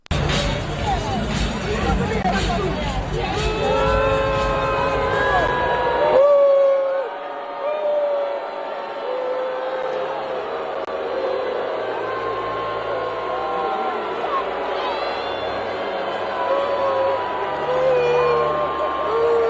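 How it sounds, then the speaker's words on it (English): Stadium crowd at an NFL game in Landover, Maryland, a broad, sustained roar of cheering and booing that stays fairly loud throughout, with a denser burst in the first six seconds. "Now, you can hear some cheering in the background as well"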